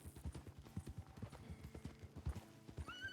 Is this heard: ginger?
no